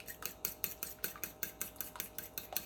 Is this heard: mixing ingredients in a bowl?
yes